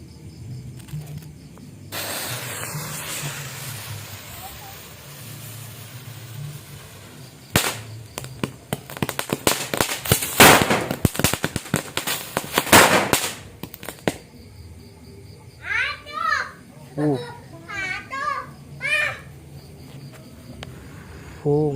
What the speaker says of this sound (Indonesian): kita lanjut lagi yang petasan kupu-kupu renteng